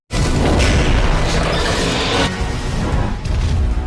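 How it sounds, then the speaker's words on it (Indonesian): A loud, sustained roaring blast with crashing debris, a big film explosion as Thor smashes the Destroyer robot with his hammer Mjolnir, dense and continuous with a brief dip then surge. "Thor menahannya dengan Palu Mjolnir lalu melesat menghancurkan Destroyer."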